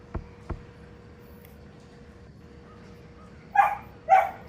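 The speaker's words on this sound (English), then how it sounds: "Dogs!" Two short, loud dog barks in the Five Nights at Monkeys video game come close together near the end, after a couple of faint knocks earlier over a quiet hum.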